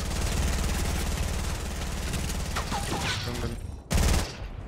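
Rapid SMG fire rattles in Fortnite Battle Royale, dense sustained bursts for several seconds, then a short pause and another burst, loud and close with game effects mixed in.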